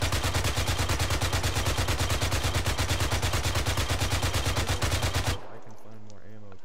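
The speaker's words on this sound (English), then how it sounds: "I'm putting the ammo out just to suppress them" Sustained suppressive automatic gunfire, loud and close: rapid, evenly spaced shots run without a break for about five seconds, then stop abruptly and leave a quiet, faintly echoing tail.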